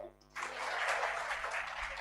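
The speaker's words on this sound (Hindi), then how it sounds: "तालियां बजाइए इसके लिए" Students in an audit lecture burst into a round of applause, a sudden dense patter of many hands that starts after a brief quiet moment and keeps going steadily, close and loud.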